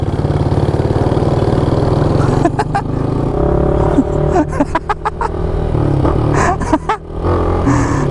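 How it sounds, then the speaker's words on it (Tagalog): A motorcycle with a plugged exhaust that is still loud runs close by, a steady low engine drone broken by bursts of revving and sharp crackles near a checkpoint. "Kasi yung tambutso natin, may busal lang. Nilagyan ko ng busal pero maingay pa rin."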